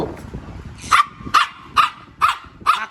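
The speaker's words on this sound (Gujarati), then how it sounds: "આ બહુ બગડી ગયું છે આ કૂતરું" Dog barks five times in a steady rhythm at home, sharp loud barks about half a second apart, close by with little else audible.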